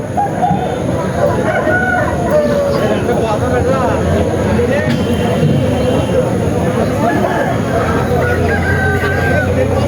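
Roosters crow faintly amid the busy hubbub of a Saturday country chicken market in Mamidada, buried under constant crowd noise and nearby talking.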